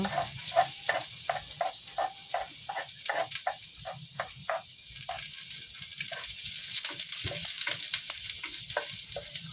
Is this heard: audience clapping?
no